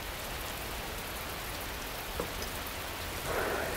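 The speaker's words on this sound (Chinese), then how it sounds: "这雨怎么就越下越大？" Steady rain pours down continuously across the whole stretch, a dense even wash of drops with a slight swell near the end and no voices.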